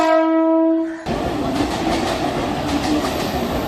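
A suburban train on the line to Belur sounds a sustained horn, then the carriage rumbles and rattles loudly in a steady clickety-clack that carries through to the end.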